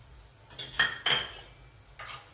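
A few scraping, clinking strokes of a utensil against a pan as methi matar malai gravy with crushed peanuts is mixed, spaced out in short bursts over quiet background.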